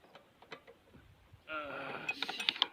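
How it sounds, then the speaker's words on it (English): Light metallic clinks and ratcheting taps as a spanner loosens bolts on a Makita Briggs & Stratton 625 series engine, scattered soft knocks first, then a denser run of sharper clicks close by. "Let's try to remove it using our spanner."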